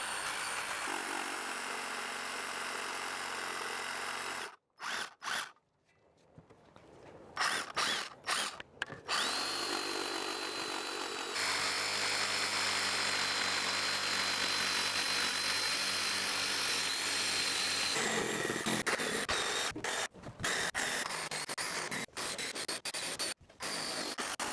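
A tiny drill sanding the radiused edges of a timber marine double-glazed window frame, loud whining runs with pitch shifts, broken by brief stops and a short rubbing pause near the middle, no talk.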